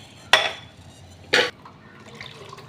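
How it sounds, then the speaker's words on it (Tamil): Water poured into rice in a pot for ghee rice, two short splashing bursts about a second apart, close and fairly loud with quiet pauses between. "மூணு உலக்கு தண்ணி விட்டுக்கிறேன்"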